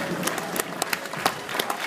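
Rodeo crowd at the Cody Stampede clapping and cheering for bucking bulls, a dense steady wash of applause with sharp claps popping out, fairly close and continuous throughout.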